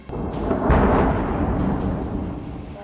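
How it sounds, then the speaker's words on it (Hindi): A drone strikes a multi-storey building in Kyiv at night, setting off a heavy explosion: a deep, loud boom that swells after a brief onset and rolls on as a sustained rumble, with no voices. "अचानक बहुमंजिला इमारत से ड्रोन टकराता है, जोरदार धमाका होता है।"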